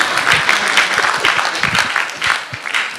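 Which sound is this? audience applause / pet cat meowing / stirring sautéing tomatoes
audience applause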